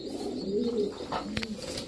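A pigeon, a female with speckled eyes, coos in a low drawn-out tone up close, followed by a brief clatter near the end.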